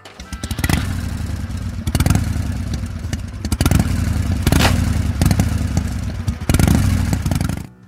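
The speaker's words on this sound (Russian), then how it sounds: "Мотоцикл." A motorcycle engine rumbles close by, with repeated surges of revving and a few clattering thumps over about eight seconds, loud and steady with no talking.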